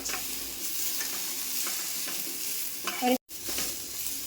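Dry coconut roasting in a pan for egg curry, stirred with a spoon: steady soft sizzle with scraping strokes throughout, a brief louder clatter near the end and a momentary cutout, no voices.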